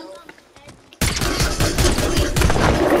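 Gunfire in the Fortnite video game starts abruptly after a quiet moment, becoming a loud, dense burst of rapid shots that continues to the end.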